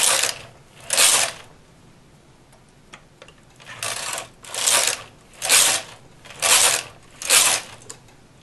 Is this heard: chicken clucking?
no